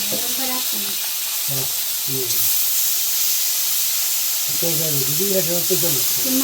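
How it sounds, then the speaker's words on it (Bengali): Koi fish fry in a pan with a constant loud sizzle and hiss throughout, close by, while people speak intermittently over the crackling oil. "একবার ভাজি করে নিতেছি"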